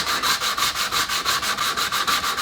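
Wet sandpaper rubs against metal in steady back-and-forth polishing strokes, roughly ten even passes in quick rhythmic succession, close and loud with no talk.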